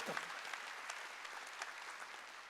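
Church congregation clapping during a Wednesday worship service, a steady broadband patter of many hands at moderate loudness, fairly distant and continuous through the short stretch with no talk over it.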